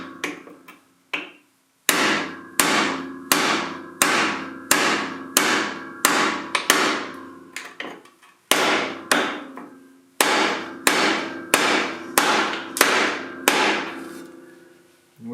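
Repeated hammer blows driving two parts out of a John Deere 755 compact tractor, sharp metallic strikes in steady bursts with short pauses between groups, close and loud with no talk.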